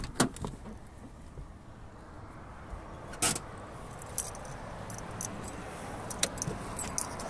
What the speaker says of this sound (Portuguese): só vou desligar o carro